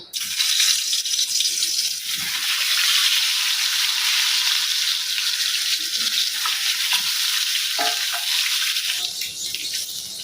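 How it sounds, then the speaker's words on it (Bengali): Salted potatoes and two eggs fry in hot oil in a kadai wok, a loud, bright sizzling hiss that runs unbroken for the whole stretch with faint clinks beneath it. "কড়াইয়ের মধ্যে তেল গরম করে না এই যে এই আলুগুলা আর এই দুটা ডিম না একটু লবণ মাখায় এখন একটু ভাজবো"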